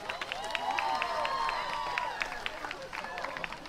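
Homecoming court at a Glendale High football game met by crowd applause and cheering in the stands, a steady wash of clapping with scattered shouts, fairly distant and sustained throughout.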